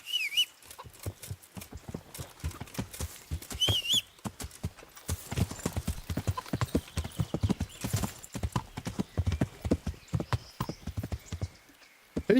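Horse hooves clip-clop steadily on the ground in the Kingdom Come: Deliverance video game, a close rhythmic walking gait with a brief whinny and faint birdsong behind it.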